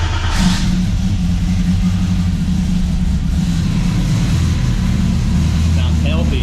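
A car engine runs close by, a loud, steady low rumble with a slight rev near the start, continuous throughout, with a voice talking faintly over it.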